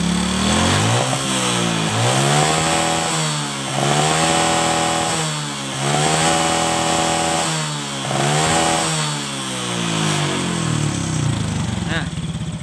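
A Honda Kharisma motorcycle engine revs repeatedly up and down during carburetor air-screw adjustment, each throttle blip rising then settling, several cycles in a row, loud and close.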